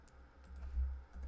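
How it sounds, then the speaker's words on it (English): Typing a number on a computer keyboard, a few soft, quick key taps close by with a low steady hum underneath and no talking. "At least this time I'm just typing in a number"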